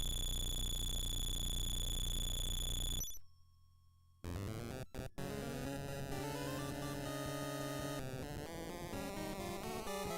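A frog band plays its song in the video game Link's Awakening DX. A bright electronic jumble of beeping tones cuts to near silence, then a chiptune melody with sustained buzzy notes comes in, with a couple of sharp clicks between.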